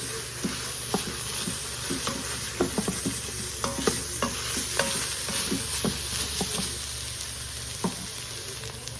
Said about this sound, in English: I'm just going to stir those in and let them toast for a little bit